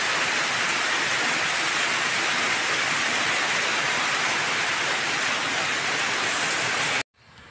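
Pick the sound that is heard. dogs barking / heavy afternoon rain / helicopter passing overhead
heavy afternoon rain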